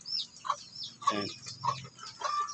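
Several chickens cluck in short, soft bursts close by at a brooder cage, with a few scattered calls overlapping in a quiet setting.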